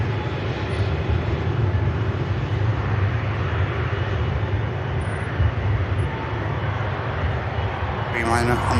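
Boeing 787 Dreamliner on its takeoff roll at Manchester Airport, a steady broad engine roar heard from a distance, constant and unbroken throughout.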